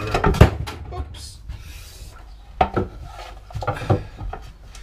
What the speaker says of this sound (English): I'm cutting, I'm doing my knife wall so I get a clean edge